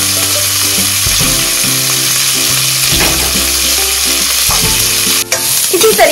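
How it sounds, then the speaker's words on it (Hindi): Onions, whole garlic cloves and ginger fry in a pan for palak paneer, a steady close sizzle running throughout with occasional stirring scrapes and clinks. "इनको थोड़ा सा हल्का हल्का सा इनको भूनने देंगे"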